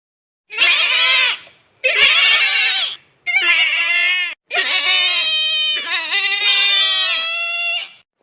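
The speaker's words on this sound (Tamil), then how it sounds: "அங்கே பாருடி, கழுத்தெல்லாம் சிக்கிக்கிட்டு கிடக்குது இந்த ஆட்டுக்கு." A goat with a rope tangled around its neck bleats loudly in four long, wavering cries separated by short pauses, close by and alone.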